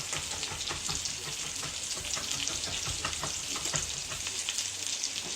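Salmon fillets searing in a hot pan, a dense, even sizzle and crackle held at steady loudness up close for several seconds, with no talk.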